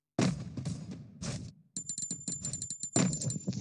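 A gun in Free Fire that rings like a bell when fired, heard as a bright, repeated high-pitched ringing in rapid bursts, mixed with gunfire thuds and game sounds.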